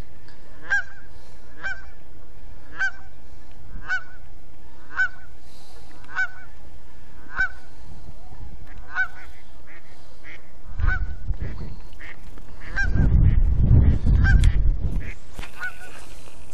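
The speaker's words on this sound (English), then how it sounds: "Goose is losing its mind." A goose by a muddy creek honks repeatedly at a steady rhythm, loud and fairly close, its calls continuing for many seconds while low wind or handling rumble rises toward the end.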